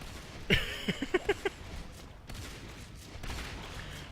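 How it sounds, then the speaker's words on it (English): Gunfire in a Natural Selection 2 match: a quick volley of about five or six sharp, distinct shots early on, set over a steady hum of game ambience and faint distant action. "Lots of missed shots from Tyre there."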